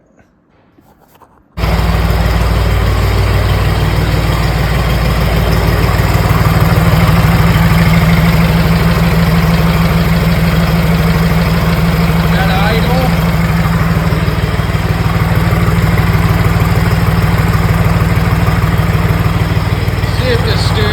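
A John Deere 300 backhoe engine idles steadily after a silent second, a loud continuous low rumble running to the end with no voices.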